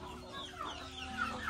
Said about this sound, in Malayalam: ഇവിടെ നമ്മുടെ പുതിയൊരു കോഴി വിരിഞ്ഞിട്ടുണ്ട്